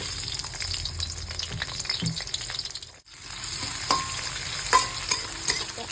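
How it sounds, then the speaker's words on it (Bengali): Cumin seeds fry in hot oil in a pan, giving a soft, steady sizzle with light stirring scrapes and a few brief clinks, moderately quiet throughout. "তো এখানে তেল গরম হয়ে গেছে, অল্প একটু সাদা জিরে দিয়ে দেবো"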